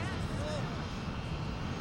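Steady broadband roar of an airplane passing close by, loud and continuous throughout with no pauses.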